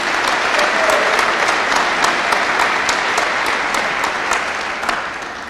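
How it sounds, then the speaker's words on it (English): An audience at a high school graduation applauds in a steady, dense round of clapping that fades slightly toward the end, with a few sharper individual claps rising above the crowd. "Will you please join me in one more round of applause for these 11 outstanding students?"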